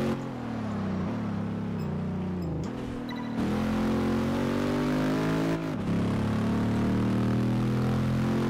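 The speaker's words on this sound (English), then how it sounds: "That engine sounds amazing, though." A loud, throaty muscle car engine in Test Drive Unlimited 2 revs and climbs through gears continuously, with brief dips as it shifts, up close and steady throughout.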